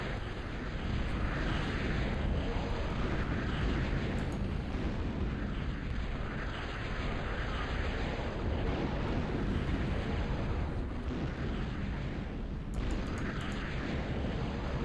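Gunship aircraft in the Total Annihilation ARM campaign, a steady, loud droning roar of engines and rumble holding without a break, with no talking.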